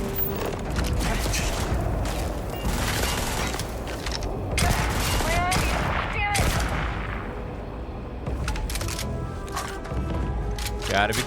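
Weapon fire in the space game Starfield, a steady, loud barrage of shots and mechanical clatter that runs without a break, with a voice talking over it.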